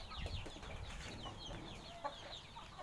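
A breeding gamecock at a rural home in Myanmar gives a few short, close clucks, soft and low against a quiet background.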